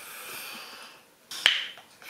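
A drink bottle's metal cap pops off in a single sharp snap, close and bright, preceded by faint hiss-like room noise and followed by a brief fizzing tail.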